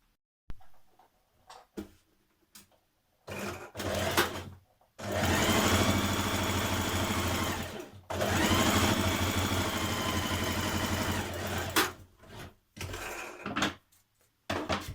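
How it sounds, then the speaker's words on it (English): A sewing machine stitches a skirt-panel seam down from a back-tacked notch, with short stop-start bursts at first and then two long steady runs, close and loud, followed by a few brief handling sounds. "we're going to back tack here at this notch, and we're going to stitch down to the bottom"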